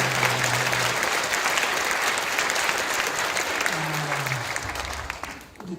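A congregation at an Easter union worship service claps warmly for a missionary, a dense, even burst of applause that fades out near the end.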